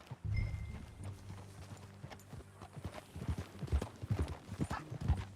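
Horse hooves clip-clopping at a steady walking pace in the Red Dead Redemption 2 video game, fairly close and clear, with occasional low game sounds beneath.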